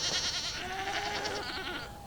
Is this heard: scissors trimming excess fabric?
no